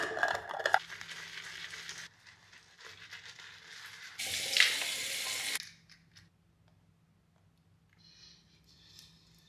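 Tap water runs into a bathroom sink while a face is washed, a steady hiss broken by splashes and small handling clatters, louder for a burst midway, then fading to a quiet room.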